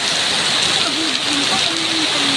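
Heavy rain pours down with strong wind, a steady loud broadband roar throughout, with a voice talking faintly underneath.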